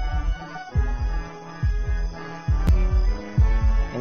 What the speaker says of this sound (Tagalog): pabilis ng pabilis ho yung tibok ng puso